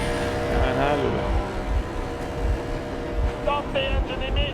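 A boat engine runs steadily in Metro Exodus, a low chugging throb with regular pulses, close and continuous beneath a voice speaking over it.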